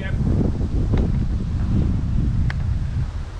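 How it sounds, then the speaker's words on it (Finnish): Strong wind gusts against the microphone while someone climbs a birch tree, a steady loud rumble with rustling that persists throughout, with brief faint clicks or creaks. "tuuli ei hirveästi nyt auta"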